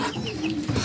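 Pigeons in a loft crowd toward freshly scattered feed, giving a brief close burst of cooing and fluttery bird calls.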